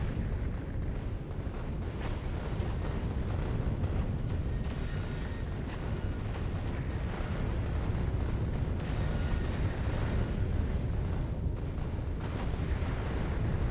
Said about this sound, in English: Like those explosions whoosh,